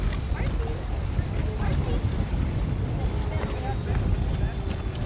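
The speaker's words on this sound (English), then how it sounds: "That wind is cracking." Strong wind on the Florida Gulf Coast buffets the microphone in a steady, loud roar that continues throughout, with faint voices underneath.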